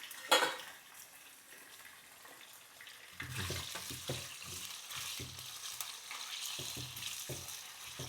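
Chicken pieces frying in a hot pan with onions, a loud sizzling hiss that swells after a few seconds, with stirring scrapes and clinks of a utensil against the pan throughout.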